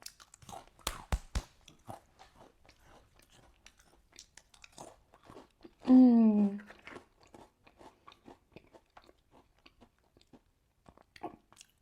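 Thin, crispy Créa d'Or biscuits, bricelet-style wafers, are bitten and chewed with quiet crunches near the mic, sharpest at the start, while someone speaks briefly in the middle.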